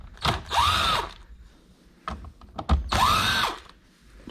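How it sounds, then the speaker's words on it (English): A power impact gun with a Phillips bit whirs in two short bursts, removing screws from the steering cover of a 2005 Toyota MR2 Spyder, with clicks and handling knocks in between. "You can use impact gun, you can use your screwdriver. Remove these 2 screws"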